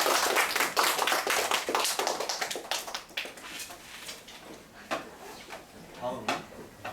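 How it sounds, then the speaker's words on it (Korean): Clapping from an audience after a student's presentation at a school invention showcase: a dense patter of hands that thins and tapers into scattered claps, with a voice coming in near the end. "큰 박수 부탁드립니다."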